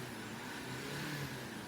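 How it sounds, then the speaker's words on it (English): A steady engine drone holds throughout with a slight rise in pitch, a Mercedes Sprinter W906 van's OM651 diesel engine being revved at close range after intake cleaning, constant and fairly loud. "you give it a few revs"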